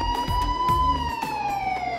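A toy truck plays an electronic siren: a steady, close, high wailing tone with faint clicking underneath.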